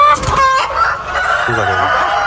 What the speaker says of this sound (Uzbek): Bu bolalar bitta joyga nechta tovuq kirib olgan.